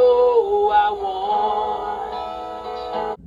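Muffled, slightly wavering music plays back from a Panasonic cassette tape recorder with a lo-fi, tape-like quality, steady throughout and cutting off abruptly at the end.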